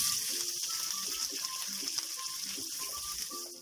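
Chopped onion going into a sizzling carrot and egg stir-fry, a steady bright frying hiss with small clinks and stirring taps throughout, no talking.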